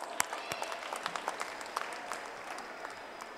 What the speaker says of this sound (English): a loud round of applause for all of us